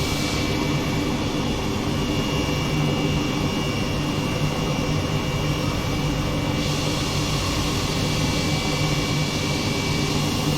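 An Airbus H135 helicopter engine in Microsoft Flight Simulator produces a steady turbine whine and rotor drone, loud and unbroken for about ten seconds, with no talking.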